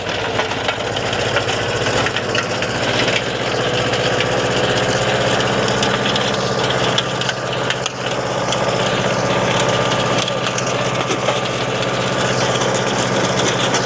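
An old tractor engine ploughing a field at a Swiss vintage machinery show runs steadily and loudly throughout, a constant low chugging drone with no clear rise or fall in revs.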